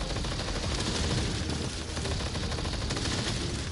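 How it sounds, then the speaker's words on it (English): Enemy gunfire in the VR shooter Blasters of the Universe, a continuous rapid stream of loud blaster shots that runs without pause at steady volume. "Trying to do a spiral shot on us"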